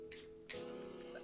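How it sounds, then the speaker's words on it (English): Two short hissing bursts of makeup setting spray misted onto a face, the second longer, over a steady low background hum. "Now it's time to spray our face down."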